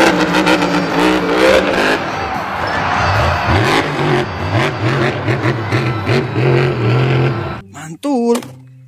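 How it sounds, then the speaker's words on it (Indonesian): A monster truck engine revs repeatedly in rising and falling surges, loud and close, with crowd noise in the background and a brief higher whine at the end. "Wah, mobil monster."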